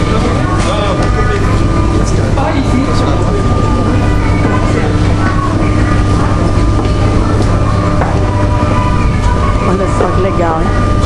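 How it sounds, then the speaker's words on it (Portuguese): A Paris metro train rolls along in a loud, constant rumbling drone with rattling and faint rhythmic clatter from the rails, heard from inside among passengers, with voices mixed into the noise. "É o metrô. A gente pega pra vir pra Paris."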